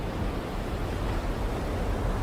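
Storm wind and waves around a boat, as a story sound effect: a dense, steady roar of wind and surf, loud and unbroken for the whole stretch, with no voices.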